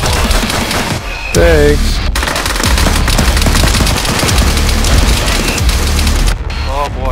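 Gunfire in the military shooter Arma 3, a loud sustained burst of automatic shots and impacts filling most of the clip, with someone speaking briefly over the noise.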